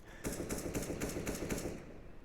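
Rapid AK rifle gunfire in a competitive tactical shooter match, a fast burst of about nine evenly spaced shots, loud and close, with no talking.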